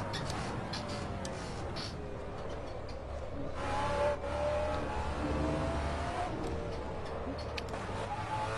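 Race car engine during a circuit race, a loud steady drone from inside the cockpit that rises and falls with revs, with faint ticking over it.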